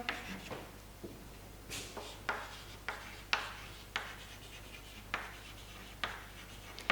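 A pen writes a chemistry formula on paper, quiet close scratchy strokes in short irregular bursts, each stroke a brief scrape with pauses between.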